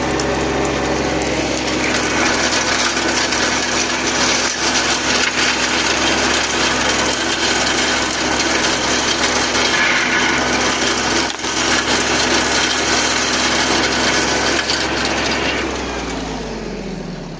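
Mateng NEFL 95 mulcher on a tractor shredding bushes, a loud continuous grinding roar of engine and chopping blades lasting throughout, easing off and winding down near the end.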